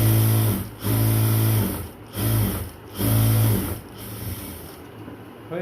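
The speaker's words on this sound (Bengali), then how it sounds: "এবার আরেকটা পাশ সেলাই করব।" Electric sewing machine stitching the second side seam of a dress, running in several short bursts of fast rhythmic humming separated by brief pauses, close and fairly quiet.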